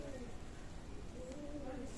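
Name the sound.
teddy pigeons cooing in a loft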